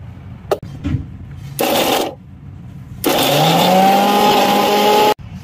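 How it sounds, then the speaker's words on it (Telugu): A kitchen mixer grinder blending carrot, beetroot and lemon runs in bursts: a short loud whir, a pause, then a longer sustained high-pitched grind with a rising motor whine that stops abruptly. "ఇప్పుడు ఇది మిక్సీ పెట్టేస్తున్నా."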